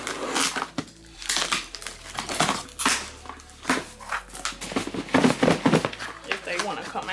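A cardboard sneaker box is handled during an Alexander McQueen sneaker unboxing, with repeated crinkling and scraping handling noises in uneven bursts, close up, while a person talks throughout.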